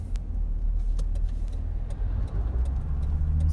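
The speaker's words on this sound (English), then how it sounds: "So this is the traffic to Tulum." A car drives in heavy traffic on the road to Tulum, heard from inside the cabin as a steady low engine and road rumble with occasional light ticks and clicks.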